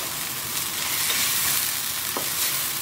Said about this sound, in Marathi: सो आमचो मसाला बरो फ्राय जाला।